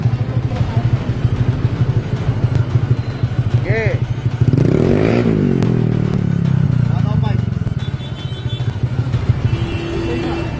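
Motorcycle with a loud aftermarket exhaust being revved past 2,000–2,500 RPM by traffic enforcers twisting the throttle during a noise check in Manila; a steady idle rises into a loud, sustained rev, then drops back, with talk around it.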